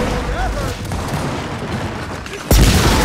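A Boom Shot grenade launcher fires during a Gears of War 4 King of the Hill match, a single loud, abrupt blast cutting through steady game noise near the end.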